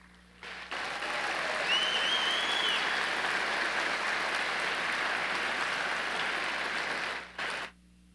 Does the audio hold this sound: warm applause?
yes